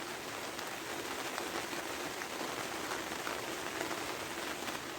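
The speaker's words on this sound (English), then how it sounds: "Now it's raining. You can hear the rain." Rain falls steadily on an allotment polytunnel, making a dense, even patter across the covering for the whole stretch with no voices.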